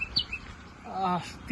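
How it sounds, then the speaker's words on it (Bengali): Birds chirp in rural Bengal countryside near Kolkata, with a koel calling among them: short, clear tonal calls and twittering, moderately near, with quiet gaps between phrases. "কিচমিচ করছে পাখির আওয়াজ"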